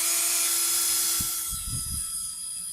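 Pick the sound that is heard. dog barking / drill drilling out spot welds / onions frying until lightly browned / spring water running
drill drilling out spot welds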